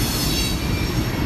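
A long train rolling steadily past on a railway at the Appalachian Trail near Harpers Ferry, a loud, continuous rumble and rattle of railroad cars with faint wheel squeal, close by and unbroken throughout.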